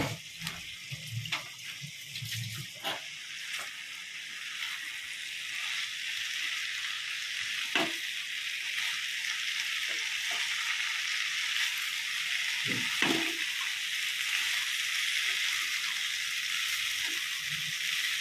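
Potato and bottle gourd fry in spice paste for a Bengali lau chingri dish, giving a steady, close sizzle with a few sharp clinks and stirring knocks.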